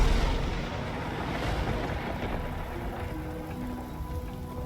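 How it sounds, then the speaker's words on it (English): Rain called down by a spell in the video game Divinity: Original Sin 2, a steady hissing downpour with a low rumbling wash, loudest at the start and easing slightly as it continues. "Should I call down some rain? Just to turn off the fire?"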